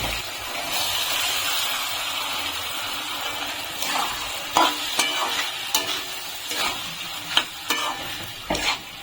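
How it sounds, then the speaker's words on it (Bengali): Soaked sago pearls tipped into a hot pan for sabudana pulao and stirred, giving a steady frying sizzle with scraping spoon strokes and occasional sharp clicks against the pan. "এখন আমি সাবুটা দিয়ে দিচ্ছি।"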